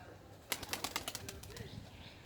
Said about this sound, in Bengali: কবুতর এসেছে, আমি যদি একটু দেখাই।